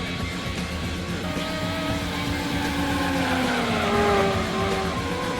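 Renault Espace F1 car's engine in Gran Turismo 2, a continuous loud drone that rises and falls in pitch as it accelerates and shifts through a race, with no talk over it.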